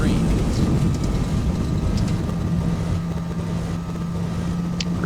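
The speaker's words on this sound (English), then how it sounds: "Reversers kick in." An Airbus A320 in the X-Plane 11 simulator rolls out after landing with thrust reversers engaged, giving a steady, loud engine roar and rumble with a constant whine, while a voice speaks over it.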